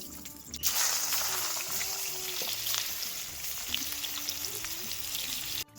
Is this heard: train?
no